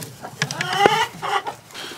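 Chickens cluck in short, close bursts among a mess of feathers in a backyard flock, with several overlapping calls over about two seconds.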